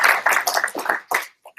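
A small group claps at a union meeting in a short, uneven burst of close handclaps that thins out and stops.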